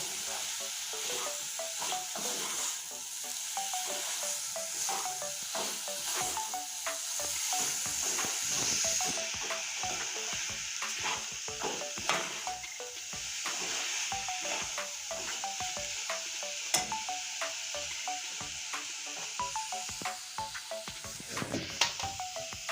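Grated coconut frying in a pan for gokul pitha, sizzling steadily and close with a continuous hiss, punctuated by frequent scraping stirs of a spatula against the pan.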